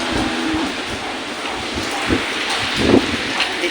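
Typhoon Maymay brings heavy rain and strong wind, heard as a continuous roaring wash with low rumbling gusts and a few sharper bursts, recorded from indoors.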